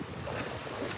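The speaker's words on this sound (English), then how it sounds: "It is pretty windy. Sorry if that is noisy." Steady wind roars across the rocky shore by Nubble lighthouse in York, Maine, buffeting the microphone with a constant broadband rush throughout, close and fairly loud, with no voices.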